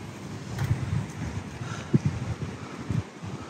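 Strong wind gusts roar and buffet the microphone beside the water near a lighthouse in Escanaba, Michigan, a continuous rough rumble with sharper bursts and no talking.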